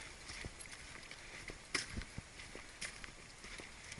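Horses in a sandy stream valley, hooves clip-clopping in soft irregular steps, faint and distant under steady outdoor background noise.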